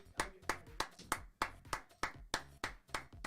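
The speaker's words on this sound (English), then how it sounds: "Round of applause for Jay West, everybody." A handful of people clapping in a quick, uneven rhythm in a podcast studio, close and fairly loud, with no talking over it.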